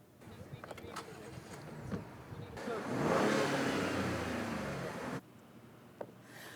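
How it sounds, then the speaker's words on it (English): A pickup truck drives tipped up on two wheels, squeezing through a narrow gap; a mid-pitched engine rises and revs under a swelling rush of road noise, then cuts off abruptly, with faint background sounds before and after. "By driving on two wheels, of course, he managed to squeeze his truck through an 88-centimeter gap."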